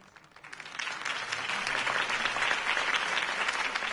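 Video game applause from a large crowd swells in after a quiet start and holds steady, dense and loud, with faint murmuring beneath.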